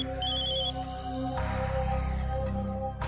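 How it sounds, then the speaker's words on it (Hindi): An electronic phone ringtone plays a repeating melodic tone pattern, loud and close, continuing steadily for a few seconds over a low background hum. "ये लो तारिका का फोन।"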